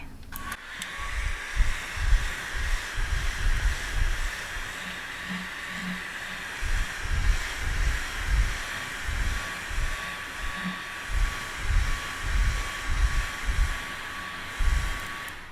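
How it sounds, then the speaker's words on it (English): A small fan blows cool air to dry freshly applied lash extensions, a soft steady whoosh close by, with faint rhythmic low thumps pulsing underneath. "I have a little fan here, so you'll feel a bit of cold air"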